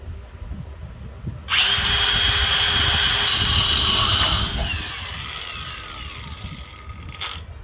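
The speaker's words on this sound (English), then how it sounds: "we're gonna cut the bolt. We want to cut the bolt." A power tool whines loudly as it cuts through a front strut bolt on a 2006 Honda Accord 3.0L, a steady high-pitched grinding for about three seconds amid garage background noise, then tapering off.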